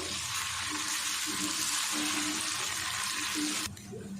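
Ginger garlic paste hits hot oil with onions for an aloo matar anda curry, giving a loud, steady, hissing sizzle that cuts off sharply near the end.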